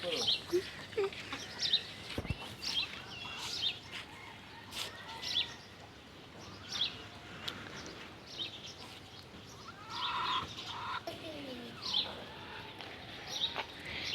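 Native desi chickens roam with their chicks outdoors, giving scattered short clucks and chirps at moderate distance amid a quiet rural background.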